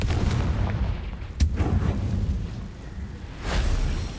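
The Confringo fire spell blasts in Hogwarts Legacy with deep, rumbling booms. A sharp burst of impact comes early, then a second heavy swell arrives near the end over a continuous low roar.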